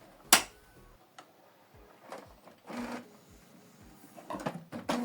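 The plastic door of a Canon Pixma TS7550i printer is lifted and pushed closed, giving a sharp click followed by several softer plastic taps and clunks, close up in a quiet room.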